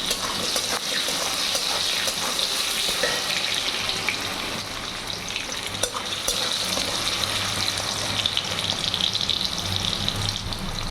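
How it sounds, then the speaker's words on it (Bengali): Potatoes fry in a pan of oil for a Bengali muri ghonto, giving a steady, close sizzle and crackle throughout, with occasional stirring scrapes and no talk. "আলুটা লাল লাল করে ভাজবে"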